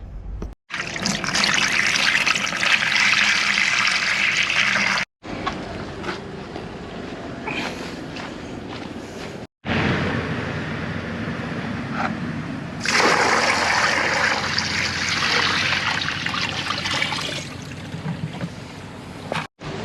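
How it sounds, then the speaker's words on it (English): Grey water from a caravan tank is poured out of buckets at a dump point, a steady splashing gush close by in several separate pours with short pauses between them. "you gotta empty your own grey water tank into buckets and then take them over there to the dump point."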